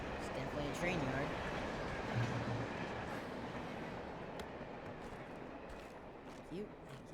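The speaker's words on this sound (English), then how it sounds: "It's definitely a train yard." A train yard in the video game Alan Wake gives off a continuous rolling rumble of rail cars, with faint squeals and clanks scattered through the steady noise.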